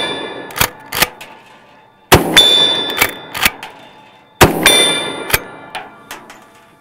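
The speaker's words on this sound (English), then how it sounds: "The next round we will be firing will be the 12 gauge slug." Three 12 gauge slug rounds strike a ballistic barrier outdoors. Each lands as a loud, sharp crack followed by a bright metallic clang and ringing, with quicker secondary impacts in each burst.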